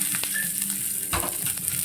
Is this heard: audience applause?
no